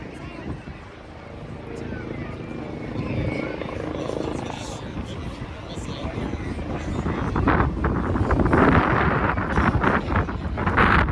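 A helicopter hovers as it comes in to land into the wind at a mock accident scene: a loud, steady rotor roar with wind buffeting the microphone, swelling nearer toward the end, while people talk underneath.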